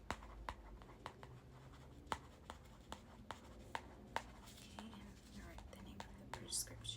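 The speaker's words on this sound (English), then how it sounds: "write the name of the" A pen scratching out a prescription after a cut is cleaned and bandaged, soft and close, with short strokes and taps in an uneven rhythm and quiet whispering underneath.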